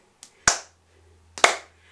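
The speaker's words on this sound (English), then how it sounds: "Can you clap your hands?" Two sharp, close hand claps about a second apart in a toddler music class, each ringing briefly in a quiet room, with a faint soft tap just before the first.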